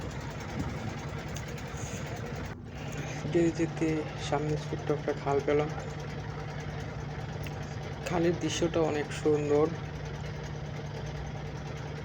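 Trawler boat engine on the way to a small village market in Mongla, a low steady hum running throughout beneath a person talking, with small bursts of knocking in between.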